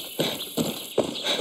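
Horse hooves clip-clopping in Far Cry 6, three distinct hoof-fall clusters at a steady walking rhythm, close and clear over a constant game ambience.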